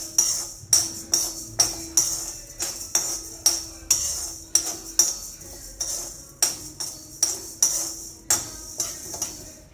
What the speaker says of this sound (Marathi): खोबरं पण भाजून घेऊ